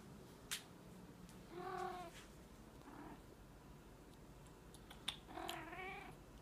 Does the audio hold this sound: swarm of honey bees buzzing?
no